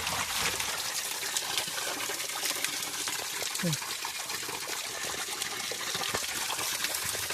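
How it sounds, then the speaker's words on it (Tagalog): Spring water gushes and splashes steadily throughout, a strong continuous flow from a natural spring close by with no pauses. "Malakas ang bukal dito."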